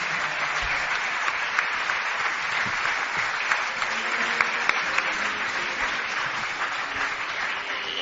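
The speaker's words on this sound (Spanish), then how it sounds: "El último aplauso que sea para el miembro más joven de Cuarto Milenio y de Milenio 3." Live-show audience applause for a paranormal radio and TV program: dense, sustained clapping from a large crowd, steady and fairly close, filling the whole stretch without speech.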